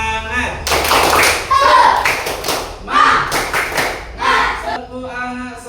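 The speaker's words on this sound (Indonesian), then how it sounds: "Tepuk semangat." Children perform a rhythmic spirit clap in a classroom, bursts of group clapping and chanting voices alternating in a patterned beat, close and loud.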